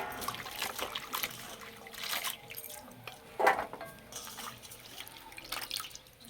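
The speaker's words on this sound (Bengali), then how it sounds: "এবার ধুয়ে তুলে নেব।" Cut bottle gourd stems being washed in a bowl of water, soft close splashing and dripping with a small slosh partway through.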